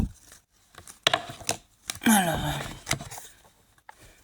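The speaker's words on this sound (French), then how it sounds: "Je vais couper quand même pour voir sur quelle carte je vais tomber." Tarot cards being cut and shuffled by hand, with sharp snaps, a riffling flutter and soft slides of card stock, close and fairly quiet, with short silences between the movements.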